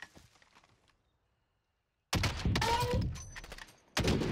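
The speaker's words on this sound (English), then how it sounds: "They're shooting at each other now." Gunfire in Call of Duty Warzone: faint distant pops at first, then near-silence, followed by a sudden loud burst of rapid shots and impacts and another abrupt burst at the end.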